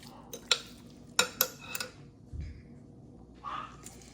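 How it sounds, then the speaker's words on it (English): Turkey in barbecue sauce stirred in a crockpot: a few sharp utensil clinks and scrapes against the pot, then softer wet stirring sounds, close and fairly quiet. "Just gonna stir it around."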